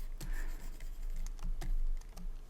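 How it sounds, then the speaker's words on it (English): Sharp, quick clicks of keys being pressed on a computer keyboard during photo editing, several distinct taps spaced irregularly, close and clear with no talking. "I just pressed 4 on my keyboard"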